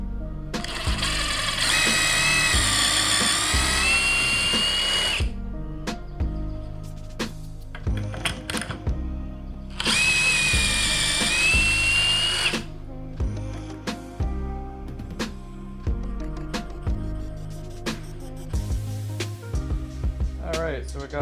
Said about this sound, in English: let's drill some pockets